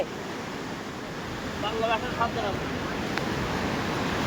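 Surf breaks steadily on a sandy seashore in a soft, continuous wash, while a person speaks briefly in the middle.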